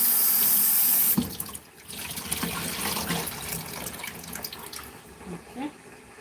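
Tap water gushes loudly into a sink for about a second, then shifts to softer splashing and trickling as something is rinsed under it.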